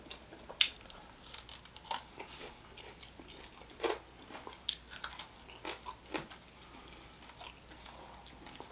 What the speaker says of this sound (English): They put Doritos on dead last, you can tell, because they're still crunchy.